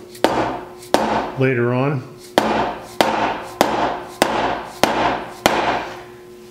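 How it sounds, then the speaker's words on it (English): A dead blow hammer strikes a wooden log in a steady series of about nine dull, heavy blows, close by, with a brief voice cutting in between early hits. "so I've got a dead blow hammer here, which works really well"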